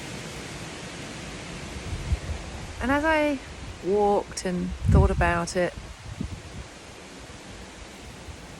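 Wind blows steadily outdoors, a continuous broadband rush that runs through the whole stretch while a voice speaks over it in short phrases.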